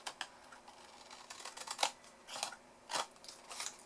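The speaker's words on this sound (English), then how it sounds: "I just took my scissors, I held them along where the cut is" Scissors round off the corner of a personalised treat bag, a few faint, quiet snips with soft crinkles of plastic between them, close and without talking.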